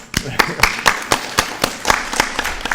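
An audience at a live true-crime podcast recording at CrimeCon claps in sharp, evenly spaced beats, close and fairly loud.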